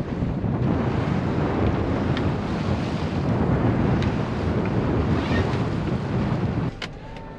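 Seaside wind buffets a microphone in a loud, continuous low rumble for about seven seconds, easing slightly near the end.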